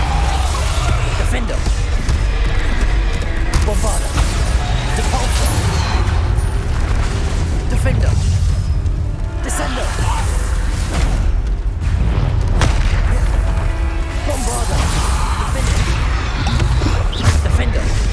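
Spell explosions from Bombarda blasts in the video game Hogwarts Legacy boom repeatedly through dense, loud combat noise, with a player calling out spell names throughout.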